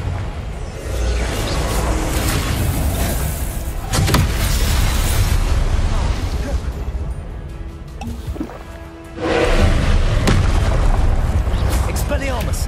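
Confringo blasting spell going off in a Harry Potter wizarding game set at Hogwarts: heavy booming blasts over a dense roaring background, one sudden hit and a bigger surge later, with a player talking throughout.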